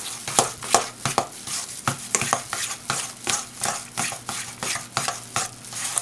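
A spoon stirring mascarpone tart filling by hand in a bowl, for a spring asparagus tart with lemon, giving close, steady scraping strokes with sharp repeated clicks against the bowl, heard alone without talk.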